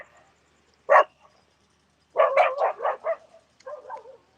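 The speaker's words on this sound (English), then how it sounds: "So how many dogs you got there, Nelson?" Dogs bark at a gate in an outdoor yard: one short sharp bark, then a quick run of several yaps and barks, and a final softer whining yip, moderately near with no talk.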